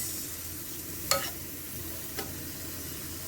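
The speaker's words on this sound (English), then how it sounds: "just basically saute it for a few minutes" Zucchini noodles sautéing in a pan give a steady, soft sizzle throughout, with two brief scraping clicks of a utensil against the pan, moderately close and without any talking.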